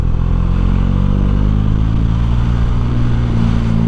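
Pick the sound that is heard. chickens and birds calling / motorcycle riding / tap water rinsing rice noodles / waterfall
motorcycle riding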